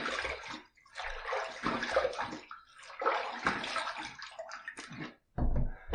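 Water splashes and runs in short bursts as a face is rinsed after a wet shave, close and fairly quiet, with brief pauses between splashes.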